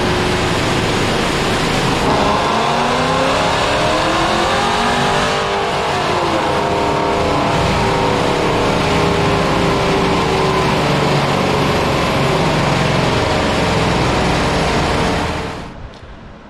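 A ProCharged 5.7 Hemi running on race gas roars through a sustained, loud dyno pull, its pitch climbing and holding steady for about fifteen seconds before cutting off abruptly.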